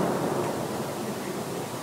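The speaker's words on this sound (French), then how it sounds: "Donc là, vous entendez la grêle." Hail falls outside during a thunderstorm as a steady, dense, even rush of noise that stays moderately loud and close for the whole stretch, with no voices.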